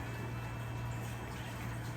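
Cold tap water runs steadily into a sink in a taxidermy workshop while an oryx hide is rinsed, a constant close rush with a low hum beneath it and no speech.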